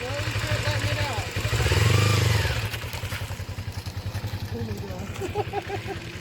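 Mini Ninja motorcycle with a first-time rider easing the clutch out, engine revving up loudly then settling into a steady throbbing pulse as it pulls away nearby, with voices talking over it.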